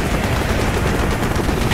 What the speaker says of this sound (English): Team AAA fire from the deck!